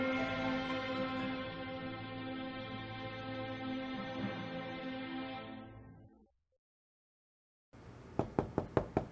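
A quick run of about five sharp knocks on a door in an Agatha Christie mystery game, arriving close and crisp after a sustained musical chord fades into a moment of silence.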